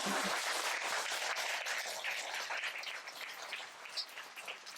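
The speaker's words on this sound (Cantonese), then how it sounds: "啲掌聲真係唔得喎！" Audience applause at a Buddhist talk, dense and steady clapping that fills the space and slowly thins out toward the end.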